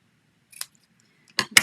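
Scissors snip through card stock for a handmade Christmas card: one brief cut, then two sharp snips close together, near and crisp against a quiet background.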